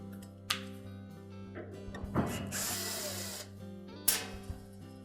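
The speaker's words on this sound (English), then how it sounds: "So our next step will be to remove 4 Phillips screws." Phillips screws come out of the heater housing of a Whirlpool dryer: short ratcheting and metallic rattling clicks, a brief scraping burst and a few sharp knocks, all close and fairly quiet.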